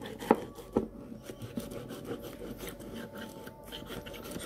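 Coffee with sugar is stirred in a cup, producing a couple of sharp clinks near the start followed by soft, repeated scraping and swishing strokes, fairly close and quiet.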